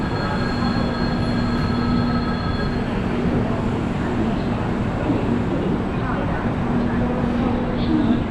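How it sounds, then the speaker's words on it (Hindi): Pune–Howrah Duronto express train running, a steady loud rumble of wheels and carriage noise with a faint squealing whine throughout, close and continuous. "तो अपनी ट्रेन बिल्कुल टाइम से पुणे से निकल चुकी है।"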